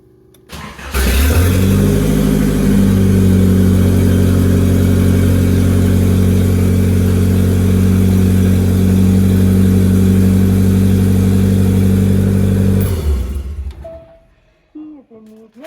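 A Nissan S12 200SX engine cranks and fires, then settles into a steady, loud idle with a strong low rumble for about twelve seconds before shutting off, heard up close.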